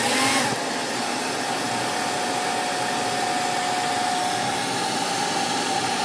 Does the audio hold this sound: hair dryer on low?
yes